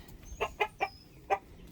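Chickens cluck softly inside a small, dim homestead chicken house, a few short close clucks spaced irregularly over a quiet background.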